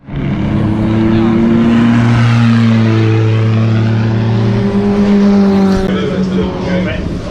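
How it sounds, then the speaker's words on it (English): Racing cars on a sighting lap before an endurance race roar past in a loud, sustained stream of engines, their pitches rising and falling as they go by, with a voice speaking over the noise. "So the cars are just doing their sighting lap. They're going to pass this straight"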